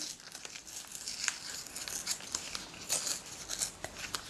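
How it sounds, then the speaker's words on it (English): Paper edges being ripped off a journal page in a series of short, crisp tearing and crinkling bursts, close and fairly quiet, with no voices. "It didn't stick down very well, so I'm just going to rip off some of the edges here."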